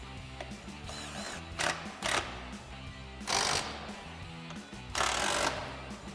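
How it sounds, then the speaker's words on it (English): A ratchet tightens T50 Torx screws on a top bracket of a Jeep Wrangler JL during a soft top install, giving rapid clicking pawl bursts with louder rattling spurts, close and repeated, without talk. "Then we'll grab our T50 Torx bit and tighten these down."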